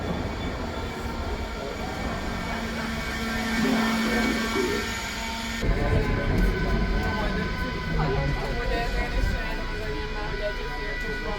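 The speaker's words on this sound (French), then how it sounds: "Et alors le métro lui-même, on voit qu'il est vieux, le design est assez original." An old metro train on Budapest's line 2 rumbles and rattles on its way along the track, with a steady low drone and some brake or wheel tones, while someone talks over it.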